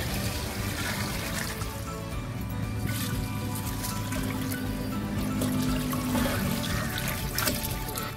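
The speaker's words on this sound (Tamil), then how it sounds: "அதனால 2 பங்கு தண்ணி நம்ம சேர்த்துக்கலாம்." Water pours steadily into a pot of rice being readied for chicken biryani, a continuous splashing, gurgling flow close by with no talk over it.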